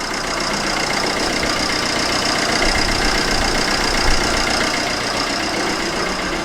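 A van's engine, a Combo, runs steadily at idle just after starting, a continuous close mechanical rumble with a faint knocking texture and no break.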